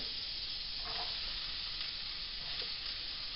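Onions sizzle steadily in garlic butter in a saucepan, a soft, even frying hiss with faint crackles, close and quiet, with no talking.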